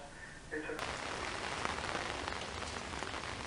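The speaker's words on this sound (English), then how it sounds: "it's been raining all day, and they said it's going to continue to rain till Wednesday" Steady heavy rain pours down during Hurricane Harvey flooding in Houston, a dense continuous hiss of drops on water and surfaces that starts after a brief faint tone and holds loud and even throughout.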